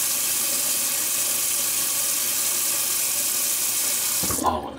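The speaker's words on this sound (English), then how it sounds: "Oh, and I left the water on." Bathroom tap left running into a sink, a steady full-bodied gush of water that holds unchanged for several seconds, then cuts off abruptly near the end, leaving a brief clatter.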